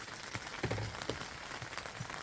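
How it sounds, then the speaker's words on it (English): Steady rain patters on a surface outdoors in the Lake District, a continuous soft hiss with scattered louder drops, no one speaking. "probably hear the rain now."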